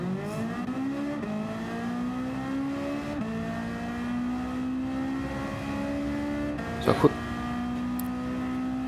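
JDM cars in a Gran Turismo 7 drag race, a continuous engine drone rising in pitch through several gear shifts, with a brief sharp burst near the end.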